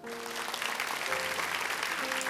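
A church congregation claps during a sermon, a steady wash of applause under sustained musical tones from a keyboard, moderately loud throughout the short stretch.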